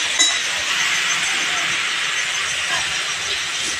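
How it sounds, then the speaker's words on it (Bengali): Onion paste hits hot mustard oil in a pan, giving a steady, close hissing sizzle that stays broad and even for several seconds, with a faint clink near the start. "এবার পেঁয়াজের পেস্টটা সর্ষের তেলে দিয়ে দিতে হবে।"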